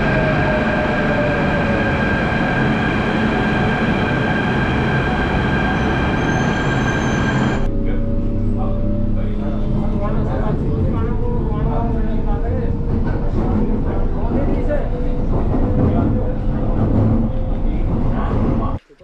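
Delhi metro train running, a loud sustained rumble with bright tonal whine that cuts off abruptly midway into a rougher rolling roar of wheels on track, continuous throughout.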